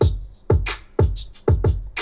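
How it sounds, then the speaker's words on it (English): A drum beat with shakers plays alone: a heavy low kick lands about every half second, each followed by bright crisp shaker hits between beats, loud and steady. "the drums with the shakers sound like this."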